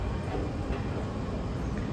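A steady low rumble of a Dubai Metro train rolling along an elevated track, with a constant broadband roar and no distinct horn or voices.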